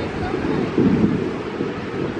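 Chilly wind blows steadily across a beach where people are flying kites, producing a loud, continuous microphone rumble with a brief gust surge partway through.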